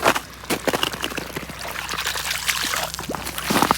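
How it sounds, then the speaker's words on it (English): A 2-inch trash pump draws water from a well, sending a loud, splashing rush of pouring flow with crackly gurgles that runs steadily throughout. "we got a 2-inch trash pump hooked up to the well"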